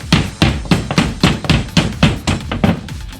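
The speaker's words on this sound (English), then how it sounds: "It's a trusty framing hammer." Framing hammer blows striking drywall in an even rhythm, about ten sharp strikes in a row, close and loud.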